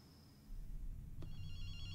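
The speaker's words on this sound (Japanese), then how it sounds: "電話鳴ってるわ。" A telephone rings faintly in Ghostwire: Tokyo, with thin electronic tones over a low, steady game ambience and no talking.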